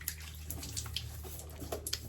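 Hot tap water running steadily from a faucet while a man wets his face before shaving, a continuous close splashing stream with small splatters.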